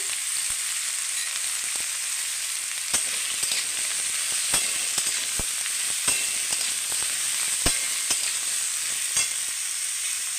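Slit green chillies dropped into hot oil for a pumpkin dish, giving a bright, constant high sizzle close by, broken by frequent sharp crackles and pops throughout.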